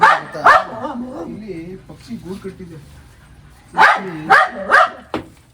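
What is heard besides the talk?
frightened dog barking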